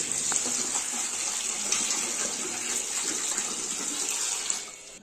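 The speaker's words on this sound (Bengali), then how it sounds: "তারপরে বেসিংয়ে জল দিয়ে ভালো করে গাজরগুলোকে ধুয়ে নিচ্ছে" Peeled carrots are washed under running water in a basin. A steady, close hiss of flowing tap water lasts throughout with faint splashes and handling, and no one talks.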